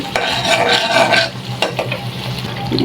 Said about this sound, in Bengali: পেঁয়াজ বাটাটা একটু হালকা করে ভেজে নেব